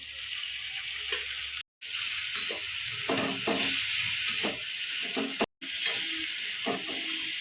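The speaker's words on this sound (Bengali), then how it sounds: "আমি ভেজে রাখা ফুলকপিগুলো দিয়ে দিব।" Fried cauliflower for a vegetarian cauliflower roast being stirred into cooked chili spice mix in a pan, a steady close sizzle broken by scraping stir strokes and two brief dropouts.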